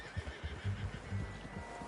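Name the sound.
horse neighing in Red Dead video game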